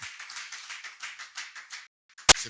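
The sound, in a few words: congregation clapping to acclaim the Lord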